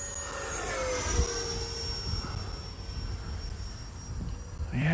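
An E-flite Viper RC jet airplane flies overhead outdoors on a windy day, its high whining ducted-fan tone holding steady and slowly shifting in pitch over broadband wind rush and faint insect chirps, with no talk.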